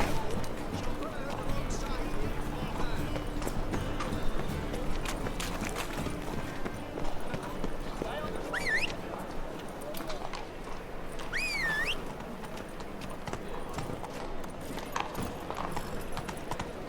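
In The Witcher 3: Hearts of Stone, the horse Roach gallops with a steady rapid clip-clop of hooves on the ground, close and continuous, under ambient outdoor game sounds and a couple of brief whistling chirps.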